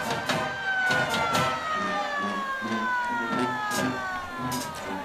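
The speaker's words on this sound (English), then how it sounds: "Now the siren, you'll hear it." A rising-and-falling siren wails through the stadium after a touchdown at a Mississippi high school playoff football game, sounding in the distance over a murmuring crowd.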